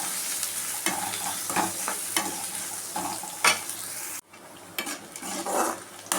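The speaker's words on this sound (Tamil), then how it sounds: "அதையும் அதில் போட்டு நல்லா வெங்காயம் நல்லா வதங்கட்டும்" Chopped onions and curry leaves sauté in hot oil with mustard seeds, giving a continuous close sizzle broken by scraping stirs and clinks of a spoon against the pan, with a brief drop in level before the sizzling picks up again.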